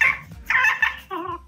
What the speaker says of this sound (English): At 10 years old, Kinley Maynor enjoys rural life by raising and selling chickens.